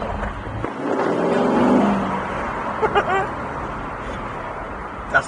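A car accelerating hard on a road in the USA, a rising engine roar that swells and then fades into road noise, with someone talking over it.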